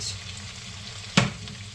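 Cabbage and bacon frying on lower heat in a pan, heard as a soft, steady sizzle with one brief utensil knock partway through.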